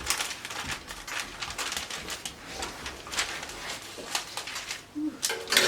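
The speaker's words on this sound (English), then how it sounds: "So I'll go ahead and cut the front neckline." Scissors cut the front neckline of a fabric panel for a wrap top, producing a steady series of soft crisp snips and slicing rasps, close and fairly quiet, with no speech.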